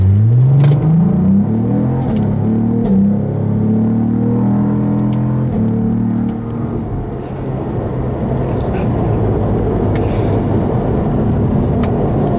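A 2022 Cadillac CT4-V Blackwing sports sedan's engine revs hard and climbs steadily in pitch as it accelerates from 0 to 60, the rising drone loud and close, then settles into a sustained roar of road noise.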